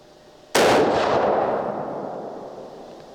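A single sharp shot from a Winchester Model 70 rifle in .270 Winchester, a loud crack that rings out and decays slowly into a long outdoor echo, with no talking.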